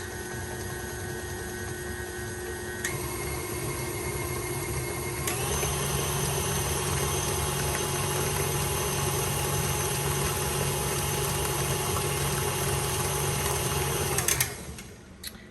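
An electric hand mixer whirs steadily through pumpkin roll batter in a home kitchen, holding a constant motor whine that steps up in speed twice before cutting off near the end.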